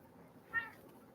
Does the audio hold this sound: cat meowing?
yes